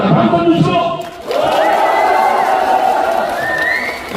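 A large outdoor crowd at a national bull-fighting festival in Uiryeong cheers and shouts in a loud, sustained roar; after a brief dip it swells again, with high whoops rising over the mass.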